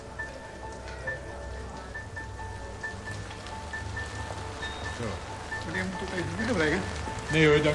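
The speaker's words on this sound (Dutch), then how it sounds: "Wat zullen we nou hebben? Regen." Steady rain patters on a hard surface throughout, with a person talking faintly underneath and a louder rustle near the end.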